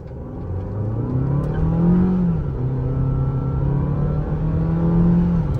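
A 2022 Jeep Compass with a 1.3 engine pulls away from a standstill, its engine note rising steadily and loud through the gears with a smooth, continuous drone and brief dips at shifts.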